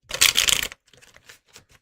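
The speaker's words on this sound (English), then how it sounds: "your deck shuffles so beautifully" A quick riffle of tarot cards lasting under a second, followed by a few softer shuffling taps and slides, close up with no talking.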